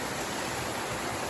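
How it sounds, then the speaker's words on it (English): Two waterfalls merge in a coastal redwoods preserve, making a steady, loud, close rush of falling water that stays unbroken throughout. "Got two waterfalls merging here."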